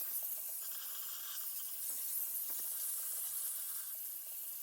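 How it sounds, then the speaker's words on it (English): A steam cleaner works in a bathroom, giving off a faint, steady high hiss of escaping steam that carries on without a break, with a few soft scrapes underneath and no talking. "Has anybody else ever used these steam cleaners before?"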